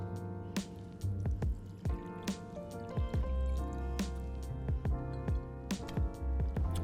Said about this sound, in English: grab a bottle of cider, pop the lid off, and you're going to pour that all over the fish